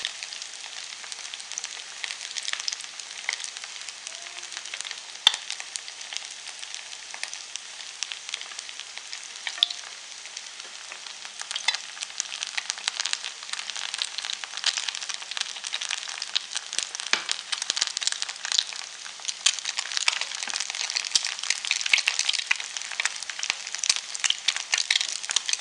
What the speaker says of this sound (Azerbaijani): Bu şəkildə hazırladıqlarımı bir tavada hər iki yüzünü qızardıram.